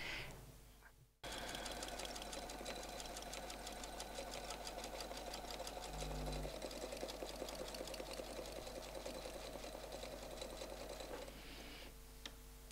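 A domestic sewing machine quilting feathers starts after a brief pause and runs in a fast, even rattling stitch, close and steady, with a short shift in pitch midway before stopping near the end.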